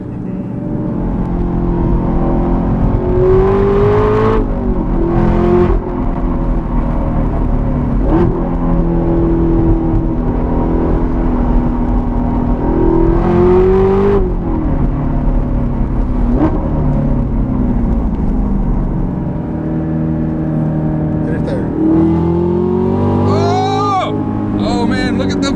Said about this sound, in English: you just hear a little bit of supercharger whine over the exhaust.